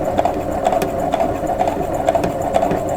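A sewing machine stitches quilt block pieces slowly, a close, steady mechanical chatter of needle strokes in an even rapid rhythm with light rattling, running alone for the whole stretch.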